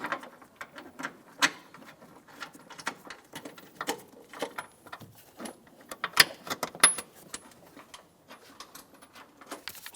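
A hand ratchet tightens bolts on a 2007-2017 Ford Expedition, its pawl clicking in quick bursts of rapid ticks, close and fairly quiet, with small pauses and metallic handling noises between strokes.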